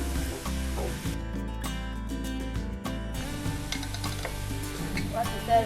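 Flour and tomato sauce being stirred into browned meat for shepherd's pie, a steady scraping and stirring in the pan with faint sizzling, near and continuous with no talk.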